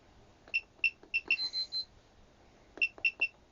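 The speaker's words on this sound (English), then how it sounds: "it beeps on the min max" A Fluke ScopeMeter 123 handheld test instrument beeping in min/max mode, with short, high electronic chirps in quick pairs and triplets, one brief stuttering run, then a pause before another cluster, close and clear in a quiet room.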